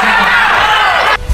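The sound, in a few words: spectators cheering at boxing match in hotel ballroom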